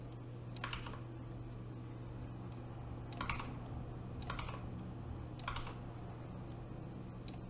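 Digits typed on a computer keyboard come as a few separate clusters of light key taps over a constant low electrical hum, close and with no voices.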